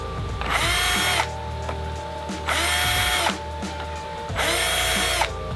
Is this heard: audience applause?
no